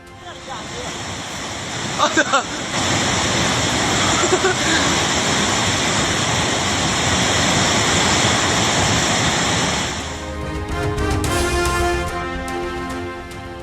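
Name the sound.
raging flash flood river water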